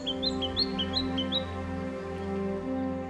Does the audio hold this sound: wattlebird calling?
yes